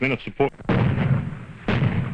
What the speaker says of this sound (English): that's the sound of the 105mm howitzer